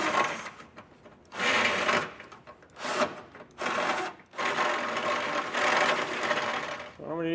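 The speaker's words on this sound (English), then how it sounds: "I'm just going to use this bit, clear a little bit of material out, and make it a lot easier on us getting the bolts in the frame" Drill bit boring through a steel trailer hitch frame hole on a 2023 vehicle, clearing material in several loud whirring grinding bursts separated by short pauses.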